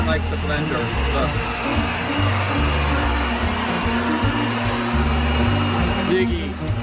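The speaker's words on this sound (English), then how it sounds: "Ziggy doesn't like the blender, look." A blender whirs steadily and loudly through the whole stretch while mixing a strawberry limoncello cocktail, a dense motor drone with a brief change in pitch near the end.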